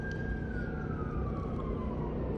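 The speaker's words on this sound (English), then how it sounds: "Even though I hear the stupid sirens." A police siren wails in the distance outdoors, one steady tone slowly gliding downward in pitch over a constant low traffic-like background rumble.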